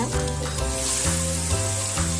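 Sliced onion and chili go into hot oil in the pan used for a Bengali tengra fish curry, making a constant bright sizzle that runs under steady tonal background music.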